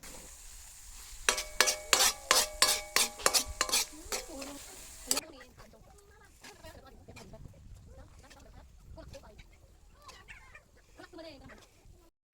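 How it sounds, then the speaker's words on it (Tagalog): Corned beef with string beans and eggplant being stirred in a pan, a run of sharp rhythmic utensil clacks at first, then softer scraping and sizzle with background noise, close by. "Haluin lang ng mabuti para yung sangkap magsama-sama."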